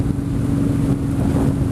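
Motorcycle cruising along a country road, with a steady low engine drone mixed with heavy rushing wind noise on the microphone, close and continuous, with no talk.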